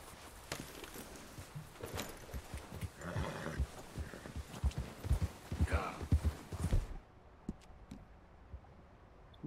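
A horse in Red Dead Redemption 2 walks, its hooves clip-clopping in an uneven run of thuds, with snorts and a whinny mixed in, before the sound drops away near the end.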